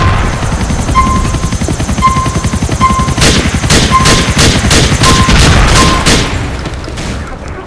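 A helicopter touching down in the GTA IV video game, its loud, steady rotor chop filling the whole stretch, with a repeating tonal beep early on and sharp bursts layered over the engine noise.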